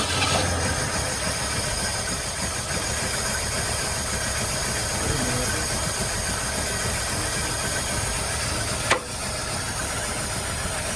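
A 1974 AMC Matador coupe's 360 V8, with a carburetor in need of rebuilding, idles steadily with a low, even rumble, broken by one brief sharp click near the end.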